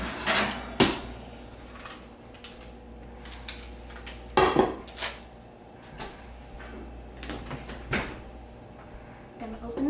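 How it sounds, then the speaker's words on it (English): Artisan bread dough in a hot pot being taken out of an oven, with scattered clanks and knocks of metal and an oven door, some sharp and louder, over a quiet kitchen background. "take the pot out"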